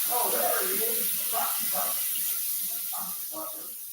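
Cold tap water running loudly into a kitchen sink to rinse ground beef, a steady hissing spray that fades slightly toward the end, with some talk and noise over it.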